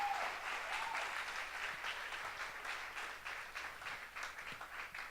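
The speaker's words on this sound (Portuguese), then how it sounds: "Uma salva de palmas para Jesus." Sustained applause from a church congregation during a Portuguese-language sermon, a dense, steady wash of many clapping hands lasting throughout at moderate distance, with no talk over it.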